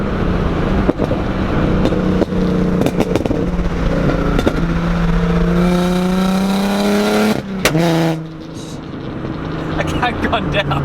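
A V8-swapped Nissan 240SX with a loud exhaust revs and pulls hard, the engine note climbing steadily through a long rising run before cutting off, then idling roughly; voices talk over it.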